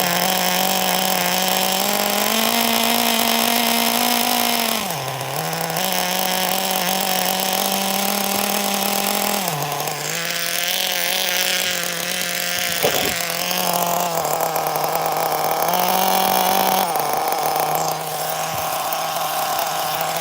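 A nitro RC car engine, a Kyosho and an old-school HPI RS4 MT, idles in a continuous close, buzzy drone, dipping briefly and recovering a few times, with no talking.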